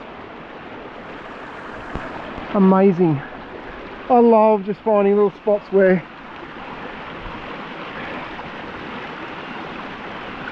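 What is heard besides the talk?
small creek flowing out of the forest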